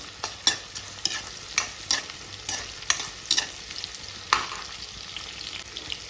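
Onion and green chillies fry in hot oil until golden, with a steady close sizzle and repeated clanking stirs of a spoon against the pan, no voices.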